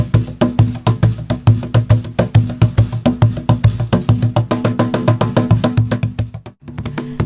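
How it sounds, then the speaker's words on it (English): Cajon with snare wires played in a fast, steady rhythm of sharp slaps, each hit carrying a short buzzing rattle, loud and close with a brief pause near the end. "Today we'd like to introduce the latest innovation of buzzing or rattle sounds that are heard when somebody plays the cajon."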